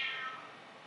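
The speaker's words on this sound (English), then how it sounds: "We've got the cat" A house cat lets out a single drawn-out meow, close and fairly quiet, its tone fading gently toward the end with no talking around it.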